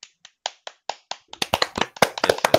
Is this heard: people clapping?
yes